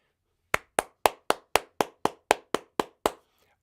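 A man slaps his own back to imitate applause: eleven sharp, evenly spaced slaps in quick rhythm, close and loud against silence.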